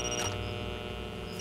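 A phone rings in the Far Cry 2 video game, a steady electronic tone held under a low game ambience, fairly quiet and brief.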